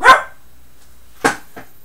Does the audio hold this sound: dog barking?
yes